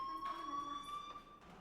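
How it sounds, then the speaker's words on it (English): A fire alarm rings in the video game Life Is Strange, a steady high electronic tone with faint harmonics, continuous and moderately loud, with muffled background sounds under it. "Hey, do you hear that fire alarm?"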